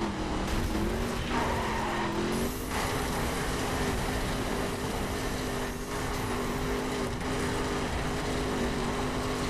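A racing car in The Crew drives through a forest, its engine droning steadily and loudly with shifting pitch, plus tire skids and scrapes over rough ground throughout.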